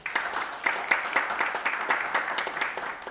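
A modest audience at a press conference for a web series claps in a brief round, the individual hand claps fairly distinct, with faint chatter underneath.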